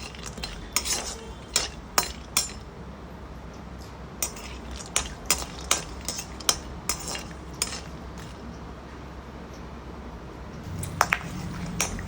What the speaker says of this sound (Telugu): మనకి బాదం పప్పు అనేవి ఒక 2 నిమిషాల్లోనే మంచిగా ఫ్రై అవుతున్నాయి.